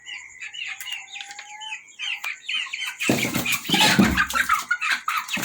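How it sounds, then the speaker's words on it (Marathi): Birds chirp and call in the first few seconds, then a burst of wing flapping and rustling from nearby chickens on a balcony farm, with a rooster's calls mixed in. "कोंबडा बघा कसा मस्ती करतो हे"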